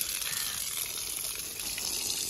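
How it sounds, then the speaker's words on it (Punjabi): Water runs from a tap in a steady, hissing, splashing flow. It is faint and unbroken throughout, with no voices. "ਤੇ ਅਲੀ ਨੂੰ ਆਖਿਆ ਇੱਕ ਵਾਰ ਸਾਰਾ ਹੀ ਜਿਹੜਾ ਪਾਣੀ ਕੱਢ ਦੇ"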